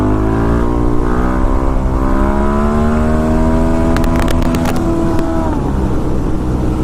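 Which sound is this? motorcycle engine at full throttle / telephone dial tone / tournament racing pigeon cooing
motorcycle engine at full throttle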